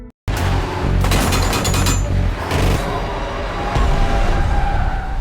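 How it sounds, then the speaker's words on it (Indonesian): Loud bursts of rapid gunfire crackle over a roaring vehicle engine, with sharp volleys clustering early and scattered shots continuing throughout. "Ishak dan Susan harus diberondong tembakan oleh tim mereka yang standby di ujung jalan"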